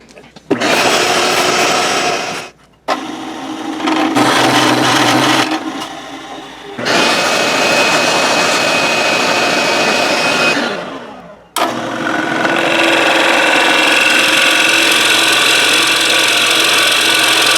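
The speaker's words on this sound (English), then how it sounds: "we're going to use this 1 11/16 Forstner bit to make our control cavity" Loud whining drill boring a 1 11/16 inch Forstner bit into scrap wood for a guitar control cavity, running in long bursts with short pauses between them, close and harsh.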